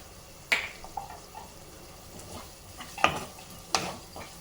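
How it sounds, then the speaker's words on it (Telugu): A spoon stirs ridge gourd and egg curry in a pan over a low, constant sizzle, with a few sharp scraping strokes spaced a few seconds apart. "ఇదంతా కూడా మంచిగా కలిపేసి మనం ఇంకొక 2 నిమిషాలు కుక్ చేయాలండి."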